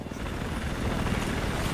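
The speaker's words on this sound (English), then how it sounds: "I'm glad I spawned in your chopper." Helicopter from the Battlefield 4 video game on PC, a loud, steady rotor and engine roar that fills the whole moment with continuous thumping wash.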